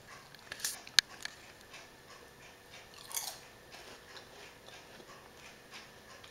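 Crunchy, cheesy raw vegan kale chips being bitten and chewed close by, with a few sharp crisp crunches in the first seconds, then quieter chewing.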